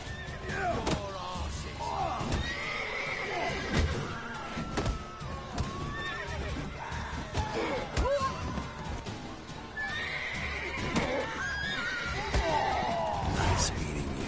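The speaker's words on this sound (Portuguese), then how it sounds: "Pô, os cavalos ficam malucos aqui." Horses in The Witcher 3 whinny and neigh repeatedly over about fourteen seconds, shrill calls rising and falling, mixed with hoof clip-clops and occasional thuds, loud and close.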